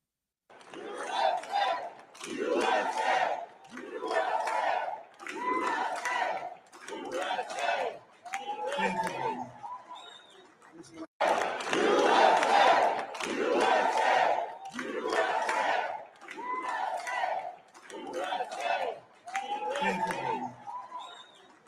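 A large crowd shouts and cheers in rhythmic, repeated bursts, like a chant, loud and continuous with brief pauses between phrases, filling the scene without a single clear voice standing out.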